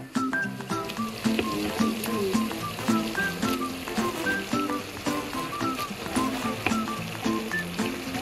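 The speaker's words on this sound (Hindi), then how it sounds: "अब मैं ये ऑयल और प्याज के अंदर ऐड कर देती हूँ।" Beef, about a kilogram, sizzles as it hits hot oil and onions in a cooking pot for a stew, a steady crackling hiss running throughout beneath louder melodic background music.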